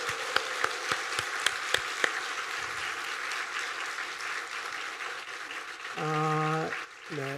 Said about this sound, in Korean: 이분들을 기억하면서 한번 박수로 감사를 표현합시다